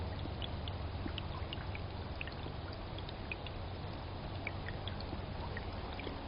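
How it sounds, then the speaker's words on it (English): A forest stream trickles and burbles in a continuous, quiet flow, with small droplet splashes scattered through it and no voices. "You can probably hear the trickles."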